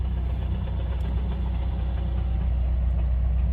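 Subaru WRX engine idling with the clutch pushed in, suspected clutch fork or throwout bearing fault: a close, steady low rumble with a faint rhythmic knock.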